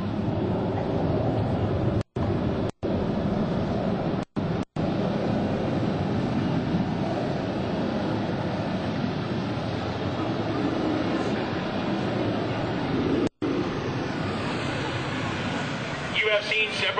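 Boeing F/A-18 Hornet jets of the US Navy Blue Angels fly at the 2002 NAS Oceana airshow, a broad, steady roar of jet engines filling the air for the whole stretch, with a few brief dropouts.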